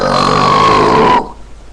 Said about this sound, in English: I challenge you to a burping contest.